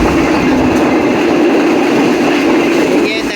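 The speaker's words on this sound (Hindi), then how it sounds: "वहाँ से गाड़ी बहुत स्पीडी क्रॉस होती है, शू करके गुजरती है" The new Shalimar Express train rushes past Safdarabad near a canal, with a loud, continuous, close rumbling roar and rail noise filling the whole stretch.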